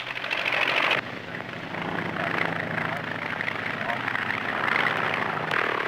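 Circular-wing 'flying umbrella' aircraft engine droning steadily with a buzzy propeller hum, under a narrator's voice on an old documentary soundtrack, with a cut partway through.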